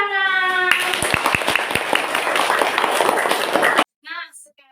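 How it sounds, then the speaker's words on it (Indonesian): A class of children claps their hands together in quick, rhythmic bursts, close and lively, with young voices chanting and calling over the claps before a sudden stop and a short spoken phrase. "Ya, tepuk tangan."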